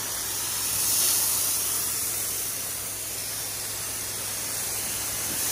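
Steady, hissing spray of a pressure washer against house siding, a continuous broadband rush that swells slightly then holds even, with no voices.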